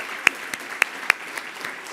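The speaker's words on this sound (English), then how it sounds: "Can we please give our sponsors a round of applause?" Audience applause at a luncheon honoring sponsors, a steady bed of clapping with several sharp, close individual claps ringing out above it.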